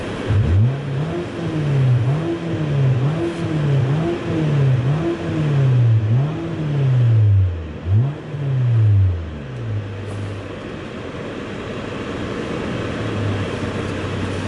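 A 2018 Nissan Altima engine is revved in a series of repeated rising and falling pulls, then settles back to a steady idle, close and loud with no talk.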